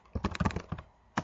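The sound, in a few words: typing a command on a computer keyboard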